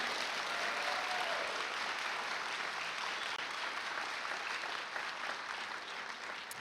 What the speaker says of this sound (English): If we could have all of our 6th graders to stand so we can give them a collective round of applause.